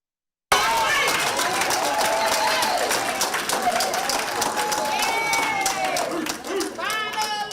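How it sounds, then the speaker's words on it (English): A crowd cheers and applauds at a parish school board meeting after a unanimous vote, starting abruptly and staying loud throughout, with clapping and excited voices mixed together. "Lots of cheering following a unanimous vote to name Jesse Winston Jr. as the next superintendent of Morehouse Parish Schools"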